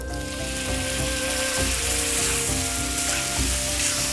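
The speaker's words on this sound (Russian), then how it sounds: "Помидоры или томатное пюре следует обжарить как следует, но температура в казане сейчас такова, что помидоры вот-вот пригорят" Tomatoes sizzling hard in a hot kazan for Uzbek chuchvara soup, a dense, steady frying hiss with occasional stirring scrapes and clinks, loud and close with no talking.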